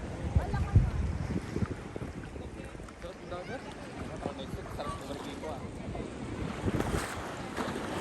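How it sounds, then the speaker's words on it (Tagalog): Ocean waves and strong wind at Katsura Beach in Japan make a broad, continuous roar with heavy wind buffeting on the microphone and surges of surf, and voices are faintly mixed in. "Grabe yung alon."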